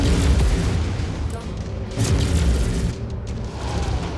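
Booming bursts from an anti-missile system firing in the MechWarrior video game, loud and continuous with heavy low rumble swelling and easing over a few seconds amid battle noise.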